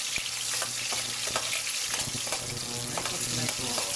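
Tomatoes go into a hot frying pan for a monggo dish, giving a loud close sizzle with steady crackling and occasional stirring scrapes throughout.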